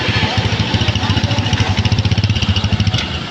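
A motorcycle engine idles close by with a loud, rhythmic low thump, its pulses speeding up slightly toward the end, while people talk over it.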